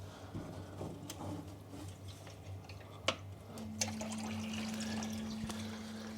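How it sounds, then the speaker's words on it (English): Aquarium auto top-off pump starting up and pouring water into a sump, with a faint trickle and drips, then a steady low pump hum joining the running water, close and quiet. "You can see the pump turns on."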